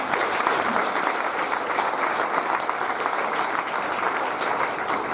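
Spectators applaud steadily at a German equestrian championship at Luhmühlen, a dense, even wash of clapping from a sizeable crowd that holds for several seconds without letting up.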